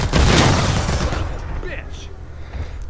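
Gunfire from the hunting video game The Hunt, a dense burst of loud shots at the start that fades into scattered, softer reports and rattling over a steady rumbling background.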